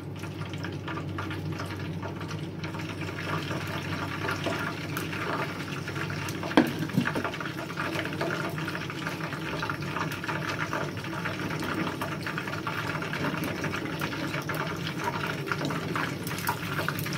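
Battered onion rings fry in hot oil kept over a low flame, giving a steady, even crackle and hiss that runs throughout with one brief louder pop partway.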